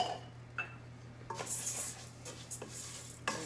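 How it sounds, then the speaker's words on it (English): Long grain white rice stirred in browned butter in a pan, giving quiet scrapes and a few light utensil clinks against the pan, spaced irregularly over a low steady hum. "I just want to stir the rice and let that butter coat all of the rice."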